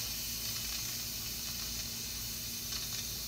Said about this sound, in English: I'm gonna release the pressure there.